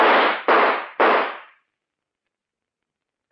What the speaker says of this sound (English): then I'll shoot.